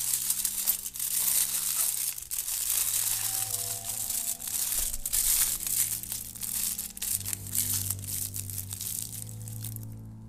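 Aluminium foil is crinkled and crumpled around a pepper, a close, continuous crackling rustle with sharper crunches, steady throughout with no talking.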